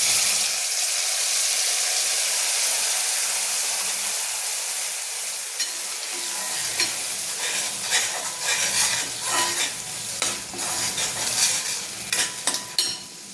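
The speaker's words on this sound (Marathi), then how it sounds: "तेल तापले, आता आपण घेऊ मसाला टाकून।" Spiced masala dropped into hot oil in a pan for a mixed vegetable dish, a loud steady sizzle followed by clinking stirring with a spoon and bursts of frying crackle.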